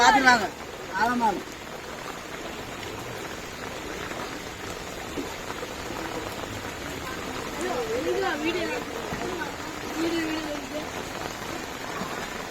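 Steady rain and running floodwater wash through a flooded village, a constant watery hiss under people talking throughout.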